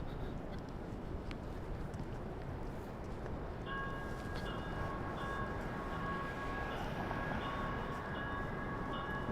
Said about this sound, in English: We'll watch the Blue Line train go in front of the Sioux Line here.